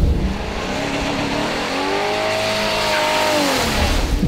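A Mercedes rolls in at about 30 km/h and then takes sharp throttle bursts. The engine note sweeps up and down as the gas is applied, lifted briefly and reapplied, with a loud, continuous roar and a faint tire squeal and no voices.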